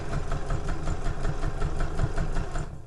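A sewing machine stitches a bag seam on a zip tote with a steady, fast mechanical chatter, close and even for about three seconds, ending in a short back stitch.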